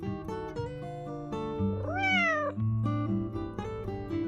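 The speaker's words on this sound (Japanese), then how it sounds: "清掃は窮屈だと声を上げているような元気いっぱいのタキシード猫は可愛らしく見えますね。" A black-and-white tuxedo cat meows loudly and insistently, a string of close, drawn-out cries with one long rising-and-falling yowl in the middle.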